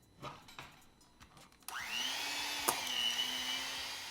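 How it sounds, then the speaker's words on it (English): An electric mixer starts up partway through to blend softened plain cream cheese, following a few soft knocks and handling sounds, then holds a steady whirring drone with a sharp clatter near the middle. "Now I'm going to start by blending up my softened cream cheese"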